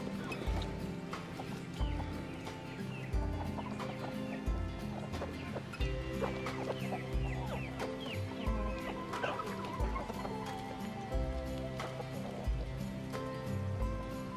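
Backyard chickens cluck and murmur continuously close by, with scattered sharper calls over a low rumble and occasional thumps, no talking.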